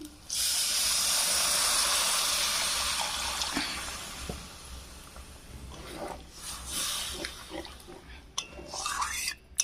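Water poured into hot frying masala for a pabda fish curry bursts into a loud rushing hiss of steam that gradually settles into softer bubbling and a few clinks, close up.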